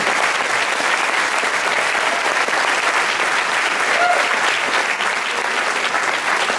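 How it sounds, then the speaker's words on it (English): A large audience applauds steadily and loudly at a high school recognition ceremony marking 25 years, the dense clapping continuing without a break for the whole stretch. "you ought to give you also a big round of applause"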